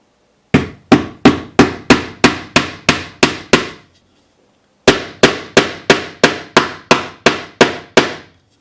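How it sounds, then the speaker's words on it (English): A tack hammer taps a wire brad into plywood in two quick bursts of about ten sharp, evenly spaced blows each, with a short pause between them. "Here you can see we have a wire brad set up, and we're just going to go ahead and nail that in."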